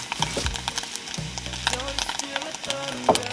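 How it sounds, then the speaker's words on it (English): Tofu crisps in a frying pan outdoors, a soft steady sizzle broken by a few scrapes and stirs, close and fairly quiet with no talk. "Now that my tofu is really crisping up here"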